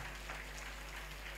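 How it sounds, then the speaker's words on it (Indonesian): Faint applause from a church congregation during a sermon, a steady, diffuse wash of clapping that holds evenly across the moment and sounds somewhat distant. "Boleh tepuk tangan lebih meriah lagi."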